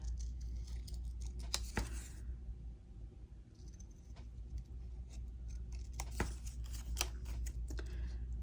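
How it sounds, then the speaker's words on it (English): Scissors snip paper in short, crisp bursts, with several quick cuts clustered together and quieter pauses between them. "we'll just kind of cut them out with our scissors."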